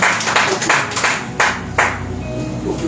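Church conference crowd clapping loudly in steady rhythmic bursts, a dense continuous wash of hands with a few louder accents, no voice on top.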